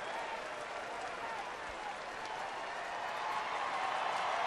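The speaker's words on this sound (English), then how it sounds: "Crowd reacting on every pitch, so they're enjoying every minute of it." A baseball crowd at Dodger Stadium cheers and applauds with a steady, dense roar of clapping and voices that swells slightly toward the end.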